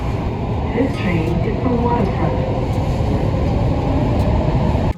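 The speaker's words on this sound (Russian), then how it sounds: "в вагоне не так шумно и даже можно записывать" Interior of a moving Vancouver metro car: a steady, loud low rumble of wheels and motors fills the space, with a voice talking over it and faint higher whines drifting in the background.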